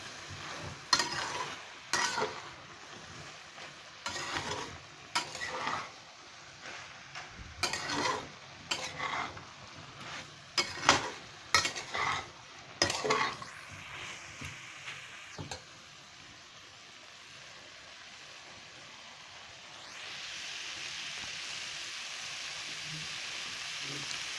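Soybean curry with ground cumin and spices stirred in a pan: a run of short scraping, clattering strokes for about fifteen seconds, then a steady soft sizzle of frying. Close and moderately loud, with no talking.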